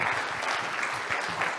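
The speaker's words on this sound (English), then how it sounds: "we should all do a round of applause" An audience at a Google gRPC tech conference talk breaks into applause for a ten-year work anniversary, a brief, dense burst of clapping at steady volume with no speech over it.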